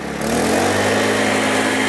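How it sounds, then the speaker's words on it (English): A small paddock vacuum engine roars steadily at full revs, loud and continuous with a buzzing, droning tone, no voices. "I'm going to put it on full revs now"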